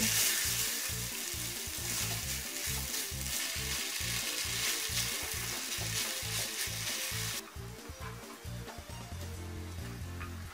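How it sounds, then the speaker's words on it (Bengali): Boiled rice is stirred through hot oil in a pan while making chickpea biryani, with a continuous frying sizzle over rhythmic scraping strokes that soften and change near the end. "এবার আমি সিদ্ধ করা চালগুলো ঢেলে দিব প্যানের মধ্যে এবং সবগুলো ভালো করে নেড়ে চেড়ে নিব।"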